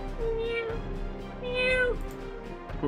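Cat meowing in Epic Battle Fantasy 5 video game: two clear, drawn-out meows, close and fairly loud, with a short pause between them.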